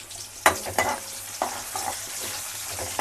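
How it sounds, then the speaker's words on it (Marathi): Onion frying in hot oil for a crab dish, a close sizzle broken by several sharp scraping stirs of a spoon across the pan. "हे तेल गरम झालंय, आता आपण याच्यात हा कांदा टाकून घेऊ"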